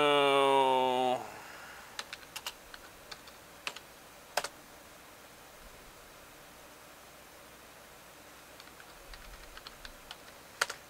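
A few sparse, isolated keystrokes on the computer keyboard of a Super Socket 7 retro PC running DOS sound faint and scattered, following a brief loud harmonic tone at the very start, with no talking.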